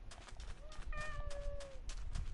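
A single kitten meow from the Minecraft Bedrock video game, a clear rising-then-falling tonal cry lasting about a second amid soft background game noise and faint rhythmic clicks.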